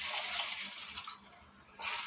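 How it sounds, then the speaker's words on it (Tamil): Water is poured into a pot of rasam made with tamarind water, tomato, garlic, pepper, cumin and asafoetida, a steady splashing stream that briefly eases off and then surges again. "இப்போ உங்களுக்கு எந்த அளவுக்கு தண்ணி வேணுமோ அந்த அளவுக்கு நீங்கள் தண்ணி சேர்த்துக்குங்க"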